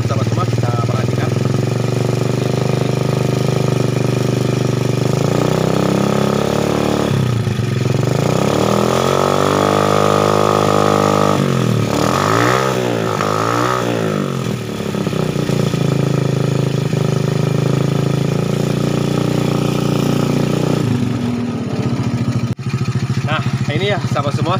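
Motorcycle engine started and running during an oil pump check, a steady close idle with a couple of brief revs rising and falling in pitch, under intermittent talk.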